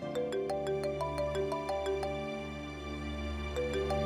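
A phone rings at home with a repeating electronic ringtone melody of short tonal beeps, steady and moderately faint under a low musical drone, with no talking.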